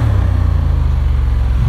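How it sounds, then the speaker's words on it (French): A Honda Hornet CB 750 motorcycle in A2 version rides on the road, its exhaust giving a steady, close, loud engine drone with a throbbing low rumble that holds at a constant pace throughout. "J'aime bien le bruit de l'échappement aussi, là on entend bien."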